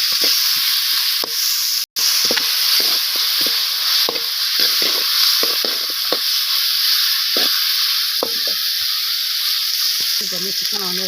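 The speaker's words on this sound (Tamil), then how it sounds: "வெங்காயம் கொஞ்சம் வதக்கிடலாம்." Onions sauté in a hot pan, a steady loud sizzle with intermittent scraping and stirring clicks throughout, one sharp knock partway through.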